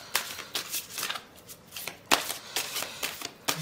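Oracle cards being shuffled by hand in rapid riffling bursts of papery slaps and flicks, close up and repeated several times in an uneven rhythm.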